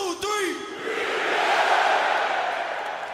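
A large crowd at the NFL Draft 2025 roars and shouts a Green Bay chant after a three-count, the loud swell building and holding, with a voice calling out before it.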